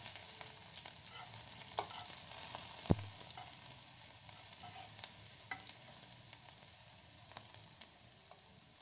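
Cumin, garlic and ginger fry in hot oil with a soft continuous sizzle, broken by occasional spoon scrapes and one sharp clink of utensil against the pan, fairly quiet and close.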